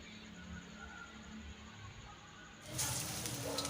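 Quiet room tone gives way to a sudden bright sizzle of drumstick flower fritters frying in hot oil in a wok, a steady crackling hiss that continues.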